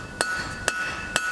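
A blacksmith's hammer forging the splat of a J-hook, three sharp ringing metallic strikes spaced evenly about half a second apart, close and distinct against a quiet forge background.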